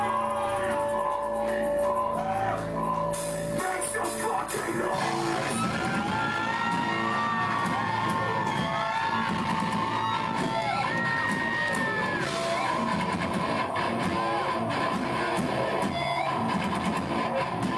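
A live concert crowd of metal fans cheers and whoops continuously, with loud, dense shouting and a single voice soaring above the roar, heard from within the audience.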